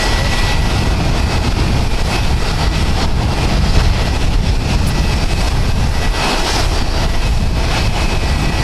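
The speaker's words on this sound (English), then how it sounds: "It's going to be a little loud due to the planes being right below us." Jet airliners at Tokyo Haneda Airport beside Tokyo Bay, heard from above as a loud, steady engine roar that fills the whole span without a break and with no voices.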